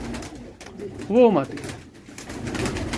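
A red-spotted female Golden Cross pigeon coos once in a short, fairly close rolling call, with quieter pigeon sounds and faint background noise around it.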